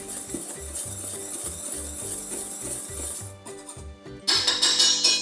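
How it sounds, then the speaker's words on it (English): Dry banana bread ingredients of flour, baking powder, baking soda and salt being whisked in a bowl, heard as soft rhythmic scraping and light clinking close by, ending with a brighter rustle. "Give this a whisk."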